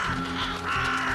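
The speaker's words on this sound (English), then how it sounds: "Crows." Crows caw in the video game The Vanishing of Ethan Carter, a harsh, steady cawing that fills the moment, loud and continuous with no other sound.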